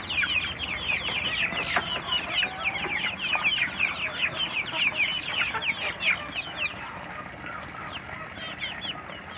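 Many 32-day-old chickens clucking and chattering together in a busy, continuous flock kept above a fish pond, close by, with no talking.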